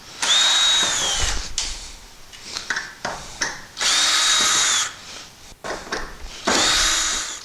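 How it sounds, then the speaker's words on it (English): A power drill backs Phillips screws out of a metal shed in three or four loud, whining bursts, each a steady high motor tone, separated by short clattering handling noises. "So I'm going to take the Phillips screws out of here."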